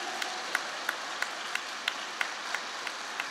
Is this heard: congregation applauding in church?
yes